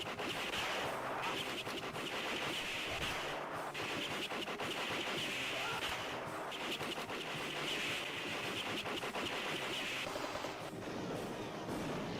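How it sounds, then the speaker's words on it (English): A hidden Roman candle firework strapped to a prop gun for a film shot, a continuous loud crackling and popping burst that stutters and pulses rapidly like automatic gunfire throughout. "we tied a Roman candle to the side of this gun where it was hidden to make it look like he was shooting it"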